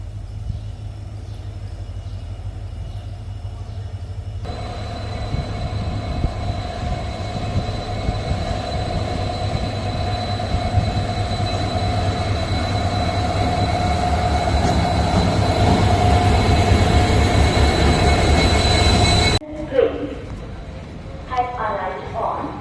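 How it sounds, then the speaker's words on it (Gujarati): A diesel passenger train arrives at a platform in Bhavnagar, its engine drone and rolling wheels building into a loud, steady roar, then cutting off abruptly as voices follow. "જો આવશે હમણાં ટ્રેન, બતાવું તમને. ડીઝલ ટ્રેન છે, ડીઝલ."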